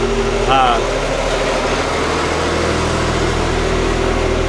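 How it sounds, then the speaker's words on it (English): A tractor passing by on a road near Jungfraujoch, Switzerland, its steady low engine drone and vibration running throughout at moderate distance, with a brief higher sound near the start. "Let this tractor pass by."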